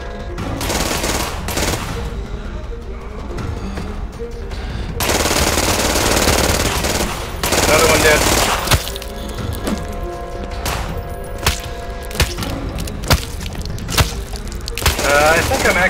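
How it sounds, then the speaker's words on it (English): Rapid automatic gunfire in a first-person shooter match during an extraction at an estate map, bursts of shots crackling loud and near in repeated volleys, with players' voices occasionally underneath. "Shoot him with it."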